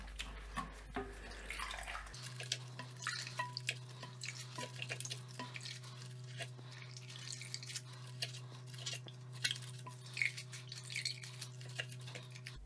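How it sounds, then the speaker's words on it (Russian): Water dripping and trickling in irregular small splashes, close by, as a sponge squeezes water out of a toilet tank, over a steady low hum, with no talking. "я сейчас отсюда всю воду вот так вот выжму"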